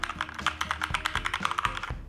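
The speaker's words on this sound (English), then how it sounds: "Now talking about this keyboard, I love how clicky this is." Tactile, clicky computer keyboard on a productivity desk setup with a MacBook Pro, keys pressed in quick, fairly even succession, crisp close clacks heard alone without talk.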